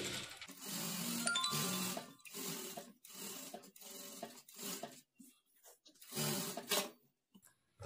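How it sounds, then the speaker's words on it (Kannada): A sewing machine stitching along the edge of a blouse lining, with short bursts of whirring separated by pauses and soft handling sounds in between. "ಲೈನಿಂಗ್ ಮೇಲೆ ಎಡ್ಜ್ಗೊಂದು ಸ್ಟಿಚ್ ಹಾಕ್ಕೊಳ್ಬೇಕು"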